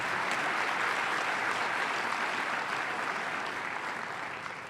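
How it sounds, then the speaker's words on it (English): Broad, continuous applause from a large inauguration crowd for county judiciary members, a dense wash of clapping that holds strong and eases off slightly near the end. "Please, again, give these folks a round of applause for their service to this county."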